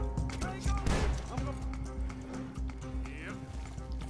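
A horse gallops in Red Dead Redemption 2, with rapid, loud hoofbeats layered over game music and effects and a brief crash-like burst early on.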